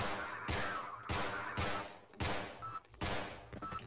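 Rapid bursts of gunfire from a first-person shooter game, Half-Life, crack out in repeated volleys with short gaps between them, loud and close with no talk over them.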